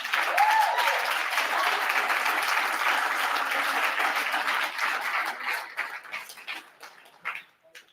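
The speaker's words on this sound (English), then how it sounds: "Thank you for clapping at that." A live studio audience claps loudly and steadily, then the applause thins into scattered claps and fades out toward the end.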